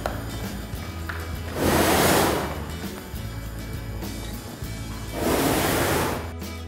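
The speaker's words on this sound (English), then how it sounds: "I'm going to pour the icing sugar down" Icing sugar poured into a Bunsen burner flame igniting a dust fireball, two broad whooshing roars a few seconds apart over a low hum.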